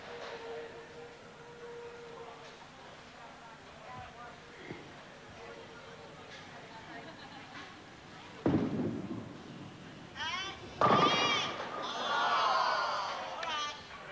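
Crowd at a men's tenpin bowling match reacting to an excellent ball, bursts of cheering and applause swelling near the end over a steady murmuring hall ambience, with a commentator speaking before.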